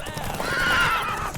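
A horse in The Witcher 3 whinnies loudly and close over about a second and a half, with game sound beneath and speech also present.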